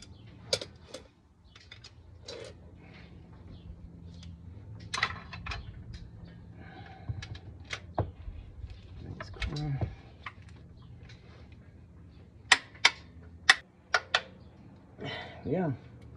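Sharp metallic clicks from a torque wrench on Corvette C4 transmission bolts, a cluster of loud snaps near the end among scattered ratchet ticks and faint tool handling, with brief talk between.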